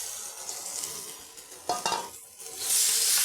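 Water spinach being stir-fried with fried coconut and lentil dumplings in a Bengali home kitchen: a steady sizzle with scraping stirs and tossing in the pan, rising to a louder, brighter hiss toward the end, with no talking.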